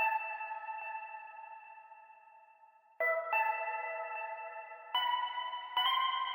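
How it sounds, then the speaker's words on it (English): Sampled flute note treated with bit crusher, tape delay and vintage-style reverb, holding steady tones that shift pitch at about three and five seconds, with a lingering echoing tail and no voices. "put some effects on it, a little bit of bit crusher and some tape delay to give it some space and some tail, and then some Valhalla vintage verb"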